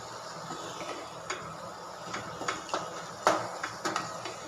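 A spoon stirs and scrapes spices in a pan for a restaurant-style smoked paneer angara, with scattered light clinks and scrapes at an uneven pace over a steady kitchen hiss, nearby and moderately quiet.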